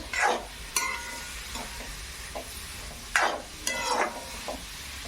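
A spoon stirs through a bowl of carrot and cabbage momo filling in a few separate, uneven scraping strokes, close and fairly quiet, with no voices.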